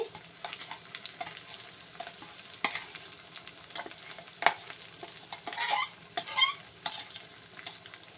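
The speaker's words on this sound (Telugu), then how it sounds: "వేసేసుకొని ఒకసారి బాగా ఫ్రై చేసుకోవాలండి" Ground coriander chutney frying in oil in a pan, a steady crackling sizzle broken by scraping stirs and a few sharper spatters, close and fairly quiet, with no voices.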